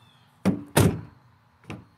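Door of a 2004 Dodge Dakota pickup shutting, with two close solid thunks in quick succession and then a softer third knock, without talking.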